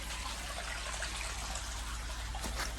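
Water trickling from rocks at a trail spring along a hiking path: a faint, steady wash of running water with no voices.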